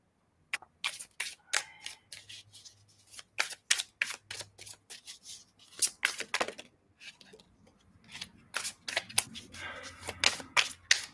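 Rapid crisp riffling of playing cards being shuffled for card readings, repeated in bursts of sharp clicks and flutters, close and fairly loud, with a voice murmuring briefly.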